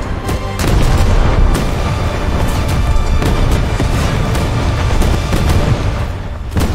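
Battleship 13.5-inch naval guns fire in the War Thunder video game, a loud, close barrage of heavy booms and sharp cracks over a constant rumbling roar, with no speech.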